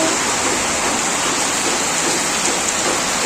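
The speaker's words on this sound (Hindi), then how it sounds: "ये देखो रांची में कितनी ज़ोरों से बारिश हो रही है" Heavy monsoon rain pours down in Ranchi, a loud, dense, unbroken hiss of water striking surfaces nearby with no pauses.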